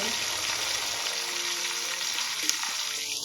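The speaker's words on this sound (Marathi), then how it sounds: "तिथे आपल्याला टोमॅटो छान परतून घ्यायचे आहे मेल्ट होईपर्यंत" Tomatoes sauté in oil in a pan for masale bhat, a constant close sizzle with faint stirring movements and a brief clink of a utensil near the end.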